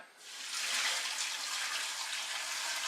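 Water running steadily from a tap into a large 21-liter pot being filled for pressure canning, a constant hissing gush that starts abruptly and continues alone at moderate volume.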